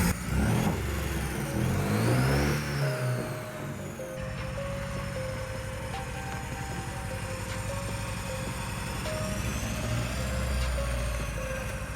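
A damaged, cheaply bought BMW engine is running steadily after starting, with a constant loud idle rumble through the whole stretch and a brief rev near the start, with no talking.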